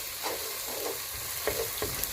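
Githeri, a maize and bean mix, stirred in a cooking pot, a few soft scraping strokes over a low, steady hiss, close and quiet with no voices.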